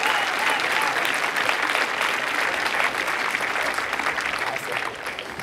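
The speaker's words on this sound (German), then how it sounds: "bitte noch mal einen Applaus" A large audience at a science slam in Karlsruhe applauds steadily, dense clapping holding strong throughout and tapering slightly toward the end.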